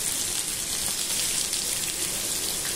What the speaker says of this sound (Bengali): কই মাছগুলো ভাজা হচ্ছে